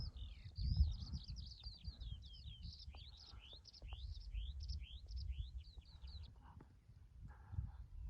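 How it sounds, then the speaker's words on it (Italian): Small birds chirp and trill continuously in the distance over a low outdoor rumble on a mountain ridge trail, quiet and steady throughout. "si sentono solo gli uccellini"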